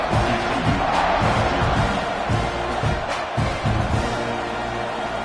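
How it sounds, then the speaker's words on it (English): A large football stadium crowd roars and buzzes continuously after a score at a TCU versus Texas A&M game, a dense, loud wash of cheering voices with surges and no single voice standing out. "this crowd is buzzing after that last score"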